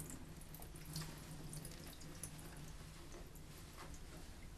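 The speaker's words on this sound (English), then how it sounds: "pour the bleach onto just the crunch area that you're holding, and then just watch it change colors." Bleach poured from a bottle onto a bunched section of denim jeans, a faint, steady trickle and splash, continuous and quiet with no talking.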